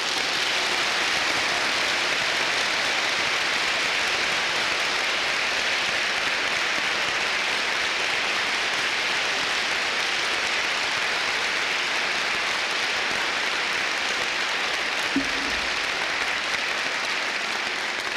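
An audience at a mission conference gives missionaries a long, steady round of applause, a dense hiss-like clatter of many hands sustained and loud throughout without speech.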